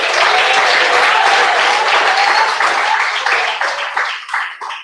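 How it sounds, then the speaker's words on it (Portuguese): Church congregation applauding, loud dense clapping filling the space steadily before thinning out and breaking into scattered claps near the end. "Mais palmas para Jesus."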